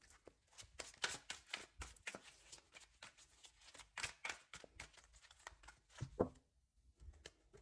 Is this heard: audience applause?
no